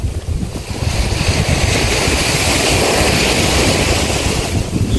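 Strong wind buffets the microphone while ocean waves wash and roar steadily nearby, with no voices.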